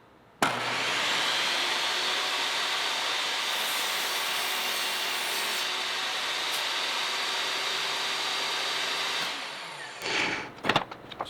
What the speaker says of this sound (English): So what's the maximum depth of crosscut we can get here?